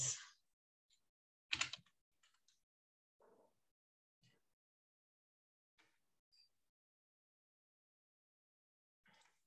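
Faint computer keyboard typing during an online English lesson: a few sparse, irregular clicks and taps spread across an otherwise quiet stretch, with no talking.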